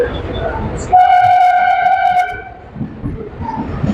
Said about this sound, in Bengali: ছুটে চলেছে ট্রেন।